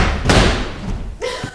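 A garden door in a staged performance of Twelfth Night slams shut with a loud, heavy thud amid a noisy backdrop, followed by a shorter knock-like impact near the end.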